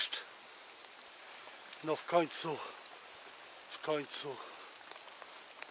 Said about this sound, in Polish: A deszcz jak nie przestawał, tak nie przestaje